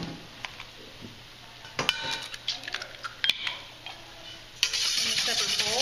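Two eggs beaten in a separate bowl for savory stuffing, a fork or whisk clinking against the bowl in quick irregular taps, then a steadier stirring swish near the end, close and fairly quiet.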